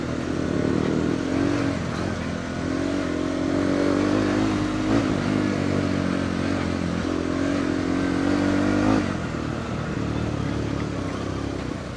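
An off-road vehicle engine drones and pulls steadily while accelerating after a shift into third gear on a hill trail, with a loud continuous rumble and rising tone.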